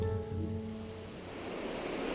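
Ocean surf rolling in where the Jesús María river meets the sea, a steady rumbling wash of breaking waves with some wind, close and fairly loud, with no talking.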